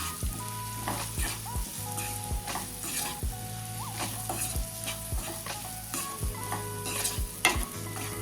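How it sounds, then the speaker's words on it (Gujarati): Pumpkin sabji being mixed with garlic chutney in a pan, Kathiyavadi style, with a steady sizzle under repeated rhythmic scrapes and taps of a spoon against the pan, close and clear, no talking. "હવે આપણે બધું મિક્સ કરી લઈશું"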